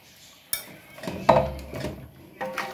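Fried onions are added to mutton korma in a pot and stirred in, with a sharp metallic clank followed by several scraping, clinking strokes of a spoon against the pot.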